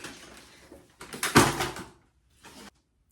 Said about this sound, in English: Normal ripping open.